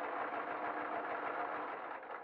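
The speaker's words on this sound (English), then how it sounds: "But the advantage of doing it on a sewing machine, not just speed, but is it'll hold together." A sewing machine runs continuously while stitching felt toddler slippers with fake fur, a steady close-up mechanical whir at even speed, fairly quiet, with no talking.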